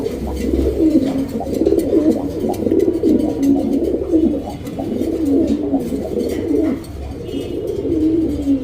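A pair of milky, over-light colored pigeons in a cage on a pigeon farm coo continuously, with overlapping soft, throaty calls close by and no talking.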